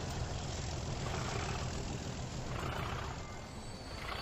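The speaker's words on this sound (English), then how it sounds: "I love the throaty sound on these engines." Train engines in the Transport Fever video game give a continuous throaty, low roar at steady loudness, dipping slightly near the end, with no talking over it.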